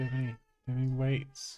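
A cat gives a couple of drawn-out, wavering meows, close and fairly loud, with a short pause between them, while someone talks alongside.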